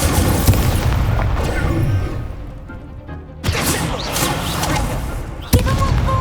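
An Incendio fire spell cast during a duel in the video game Hogwarts Legacy bursts out as loud whooshing booms, one heavy blast after a brief lull and another sharp hit near the end.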